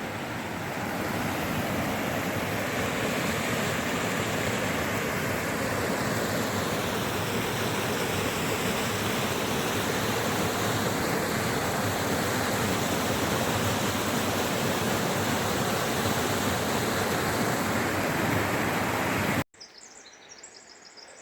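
Grider Creek rushes beside the Pacific Crest Trail near Seiad Valley, a loud, steady broadband roar of flowing water that fills the scene before cutting off abruptly near the end.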